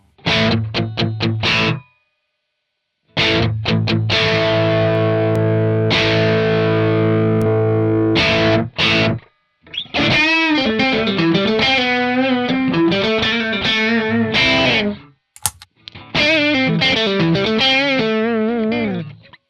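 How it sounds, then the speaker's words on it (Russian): Distorted electric guitar plays chords and a riff through a JOYO R-10 analog bucket-brigade delay pedal, a short slapback delay thickening each note, with brief gaps between phrases. "с помощью короткой задержки мы можем получить эффект практически схожий с бустером"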